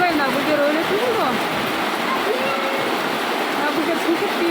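Heavy rain pours down steadily at a Kazakh home, a loud, unbroken rushing hiss close by, with voices faintly audible beneath it.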